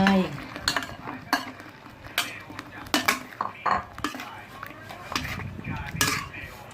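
Stingray pieces are tossed into a wok for a spicy southern Thai stir-fry with kaffir lime leaves and basil, giving repeated metal clanks, scraping and stirring clatter with light sizzle, close by, while people talk.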